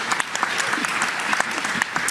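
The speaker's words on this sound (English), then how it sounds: "So let's give Anna a huge round of applause" A convention audience at a Liberal party gathering breaks into sustained applause, a thick wash of many hands clapping with a few sharper claps standing out near by, steady throughout.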